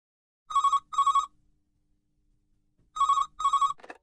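A telephone rings in two double-ring bursts, clear bright tones close by with a silent gap between them, alone, with a faint click at the end.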